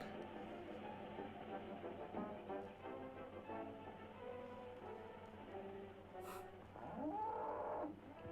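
A cartoon cow from 1930 moos in several drawn-out, wavering calls over a music and noise soundtrack, with a low bellow rising near the end.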